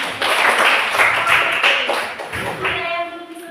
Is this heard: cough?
no